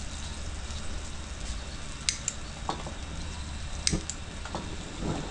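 Garlic and onions sauté in a hot pan with beef tongue, a steady soft sizzle with a few sharp clicks and scrapes of utensils, close and alone.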